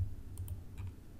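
Faint computer mouse clicks, a few soft close clicks in two small pairs over a low steady hum, with no talking.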